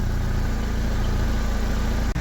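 A Daewoo Lanos with about 53,000 km on it idles steadily while warming to around 64–65 degrees, giving a close, even engine hum with a brief dip near the end.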